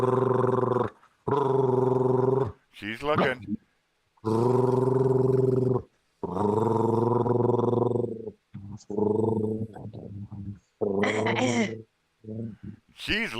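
A pet dog growls and grumbles in bursts at close range, the low rumbling interleaved with a person talking to her.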